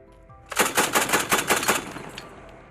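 A rapid burst of heavy automatic fire from an Mk-19 grenade launcher, about eight sharp reports in quick rhythm, loud and close, followed by a fading echo.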